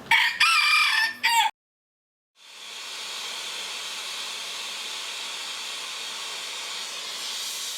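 A rooster gives one loud, close crow lasting about a second and a half, followed by a short silence and then a steady, even hiss that continues to the end.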